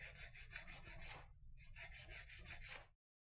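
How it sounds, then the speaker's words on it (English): A nail file rubs back and forth against a fingernail being shaped into a coffin form, two quick close runs of rhythmic rasping strokes, about seven each, separated by a short pause and then silence. "I'm going to hold my file straight up and down."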